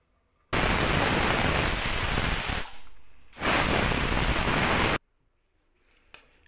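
Pressure cooker whistling while a mixed-vegetable pulao cooks, giving two long, loud, steady hissing bursts of steam separated by a short dip, then cutting off to quiet.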